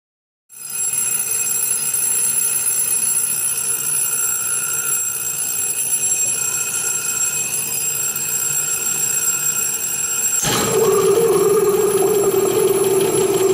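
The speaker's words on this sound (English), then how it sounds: "You can hear that as soon as I apply that voltage, the bell starts ringing." An electric bell rings continuously inside a glass bell jar in a lecture demonstration, a loud steady metallic ringing with a bright shift in tone near the end as air is pumped out.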